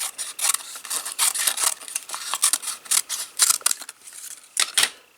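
Scissors snipping through paper while miniature book templates are cut out, a close, rapid run of crisp irregular cuts and rustles with brief pauses between bursts.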